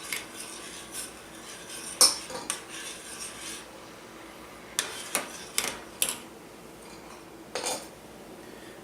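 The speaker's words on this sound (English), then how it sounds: "Continuing to stir." A utensil scrapes and clinks against a pan while stirring a sauce of sugar, red pepper flakes and soy sauce, in scattered short strokes, soft and close with quiet gaps.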